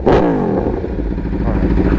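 A 2018 Aprilia Tuono V4 Factory revs hard up close, a loud rising snarl that peaks quickly and falls back to a rough, throbbing idle.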